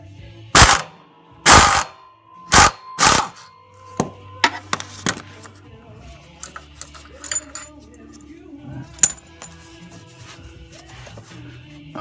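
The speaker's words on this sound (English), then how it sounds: "I drive this bolt out here, it should drop right out" Loud metal-on-metal hammer strikes drive a bolt out of a Scag Tiger Cat 52-inch zero-turn mower during a Kawasaki engine replacement: four heavy blows in quick succession, followed by lighter taps, clinks and rattling of parts.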